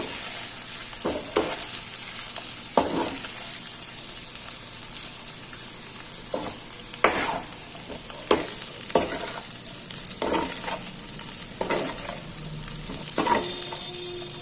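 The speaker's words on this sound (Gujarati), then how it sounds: "આપણે જે પૌવા પલાળીને રાખ્યા હતા ને તે આપણે એડ કરી દઈશું મિક્સ કરી દેશું" Soaked flattened rice being stirred into a cooked potato mixture in a pan, giving a steady soft sizzle with repeated scraping strokes at irregular intervals, close and alone without talk.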